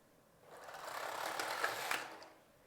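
A Passap Duomatic 80 knitting machine knitting decreases on a child's sweater: a single carriage pass that swells to a steady mechanical whirring rattle and then fades away, with no voices.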